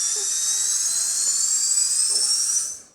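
A homemade Guyver unit prop powers up with a high, whining electronic tone that holds steady and slowly rises in pitch. It sounds close and loud, then fades away at the end, with no voices.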